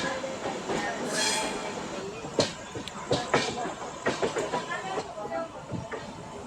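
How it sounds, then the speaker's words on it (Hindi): Train moving along a platform at Mumbai CST, with rolling rumble, repeated wheel clacks and brief squeals building toward the end, heard at moderate distance with voices in the background. "ट्रेन का अराइवल देखने मिल रहा है, या सॉरी डिपार्ट देखने मिल रहा है"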